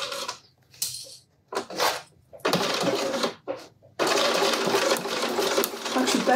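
A domestic sewing machine back-stitching the seam of a tote bag, its rapid mechanical whirring running in short forward-and-reverse bursts, then a longer steady run; close and loud, with someone speaking briefly between bursts.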